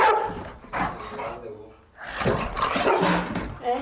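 Boxer dog barking in a home setting: a few close barks and yips at the start, a short lull, then another burst of barking mixed with people talking.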